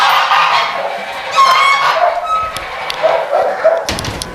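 Geese and poultry in a farm shed, with nearby honking and cackling calls over a busy, close din of birds and a short burst near the end.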